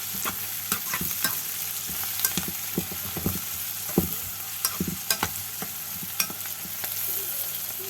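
Salted mixture frying in a pan for an instant bread recipe, tossed in steady stirring strokes with a continuous close sizzle and irregular scraping taps throughout.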